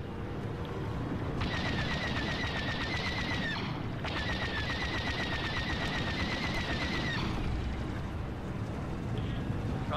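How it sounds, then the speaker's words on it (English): Rapid disruptor blaster fire rattles in two long sustained bursts from the ARC-170 starfighter battle in Star Wars Battlefront II, dense mechanical volleys over a constant roar of engines and combat noise, loud and continuous. "under disruptor fire."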